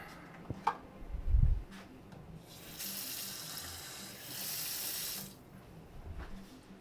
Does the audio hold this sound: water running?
yes